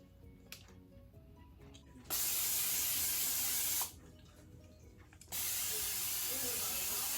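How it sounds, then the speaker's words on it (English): Cooking spray hissing from an aerosol can in two sustained bursts of about two seconds each, close and fairly loud, separated by quiet kitchen sounds. "now I have greased my hands with cooking spray so that way my hands won't stick"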